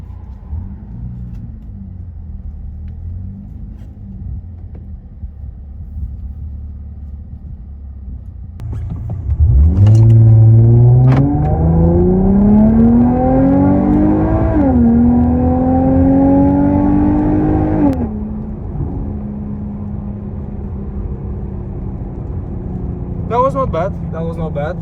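A two-ton 2016 Dodge Charger with the 3.6-litre engine, driven in manual mode, runs 0-100 km/h. Its engine note climbs steadily and loudly after a quiet idle, breaks briefly at a gear change, climbs again, then drops back to cruise.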